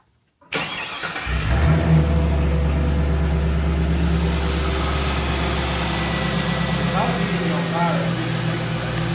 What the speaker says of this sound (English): So I'm going to crank it up, turn off number 4, see if it works.